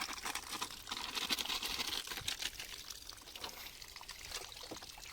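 Microbe food for farm bacteria is poured into water, giving a faint, steady, continuous trickling pour with no talking.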